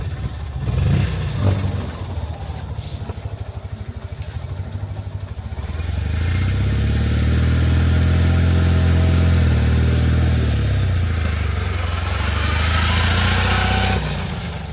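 A motorcycle engine idles and clatters at a club, then revs up loudly into a sustained roar, easing off and building again near the end.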